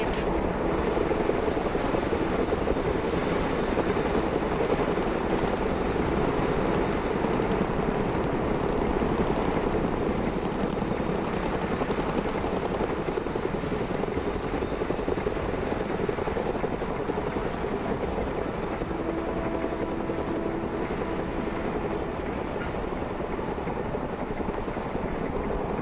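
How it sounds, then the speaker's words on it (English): A cargo helicopter in the Broken Arrow video game flies on a steady mission, its rotor and engine droning loud and continuous for the whole stretch with no voices. "One of our vehicles broke down during a maneuver exercise. Let's go and recover it with our helicopter."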